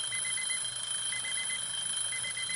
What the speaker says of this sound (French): Le bip-bip me fait capoter à chaque fois.